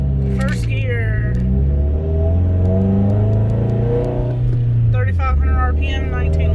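A Subaru manual car accelerates in first gear, its engine note rising steadily loud and close inside the cabin, then dropping briefly as revs fall near the end, with someone talking over it.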